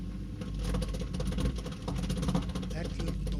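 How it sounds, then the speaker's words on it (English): A Miele G 1220 SC dishwasher starting up with a drain pump running, giving a steady mechanical hum with a fast, rattling buzz throughout, close and moderately loud. "When the machine starts, there's a bit of a rattle happening."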